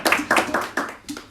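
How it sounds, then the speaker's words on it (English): Several sharp hand claps land close by in an uneven rhythm, five or so distinct bursts, as an audience at a business talk starts a round of applause. "Give Becky a round of applause"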